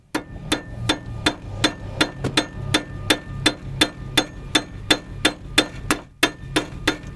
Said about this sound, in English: I'll use my rubber mallet and tap on it.